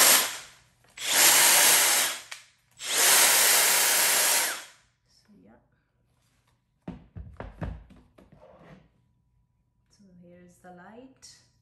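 Makita 18 volt cordless angle drill (DDA450Z) running at its higher 1400 RPM speed in two loud, steady whirring bursts, followed by quieter handling clunks and brief talk.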